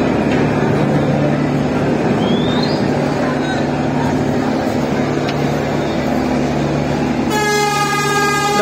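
Several large passenger launches (river ferries) at Barishal ghat, Bangladesh, sound long steady horn blasts together over a constant harbour din, with a brighter, tonal horn cutting in near the end.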